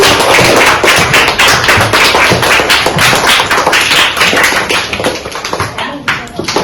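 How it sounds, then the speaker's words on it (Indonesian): Students in a classroom clap for their classmates, close, loud and dense rapid hand claps with sharp individual slaps, easing slightly toward the end. "Tepuk tangan untuk teman-teman."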